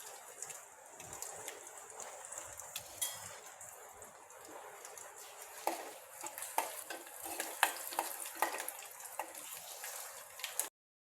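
Garlic frying in hot oil in a pan for an ivy gourd (tondli) vegetable dish, a steady bright sizzle with scattered crackles and stirring scrapes throughout, close and alone with no talk.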